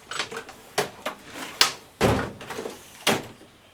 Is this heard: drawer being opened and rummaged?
yes